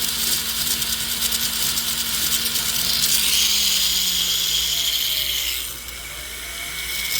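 A silicone polishing wheel on a rotary tool works a piece after ultrasonic cleaning, giving a steady high whir with a ratcheting mechanical texture that holds loud and then dips briefly near the end, with no talk.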